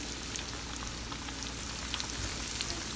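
Fish frying in hot grease gives a dense, continuous crackling sizzle with tiny popping spatters, fairly quiet and steady for a few seconds with no talking.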